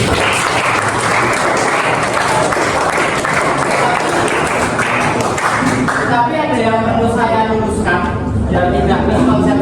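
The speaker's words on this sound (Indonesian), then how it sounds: "Berikan aplaus dulu" A classroom audience applauds for several seconds in a fabrication theory lesson, with dense sustained clapping that thins toward the end while voices murmur underneath.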